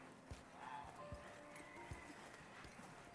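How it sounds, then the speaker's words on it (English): A horse walks at a slow, even pace, hooves clip-clopping about once a second, faint and a little distant, over a low background with light tonal traces; no clear neigh stands out. "Pretty horse"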